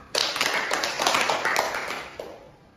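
A small group in a group therapy session claps hands together in a brief, fairly soft burst of overlapping claps that tapers away.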